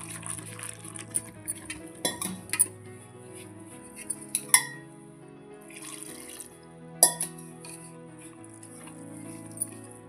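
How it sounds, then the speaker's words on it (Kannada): Dosa flour batter with salt being mixed by hand with water makes quiet wet swishes, soft splashes and occasional clinks against the bowl, faint and close. "ಸ್ವಲ್ಪ ಉಪ್ಪು ಹಾಕ್ಕೊಂಡು ನೀರು ಹಾಕಿ ಕಲಸಿಟ್ಕೊಳ್ಳೋಣ"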